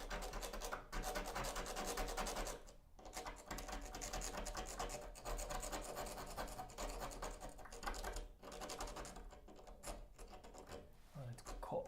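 Old caulk being scraped away by hand, a steady dense scratching and rubbing with rhythmic rasping strokes, close and continuous with only brief pauses.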